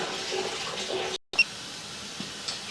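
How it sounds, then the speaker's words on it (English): Water runs steadily through a damaged pipe at 508 Craig St. in Covington, Kentucky, a constant hissing flow with a brief cutout midway and a couple of small knocks. "I'm going to let the water run for a minute"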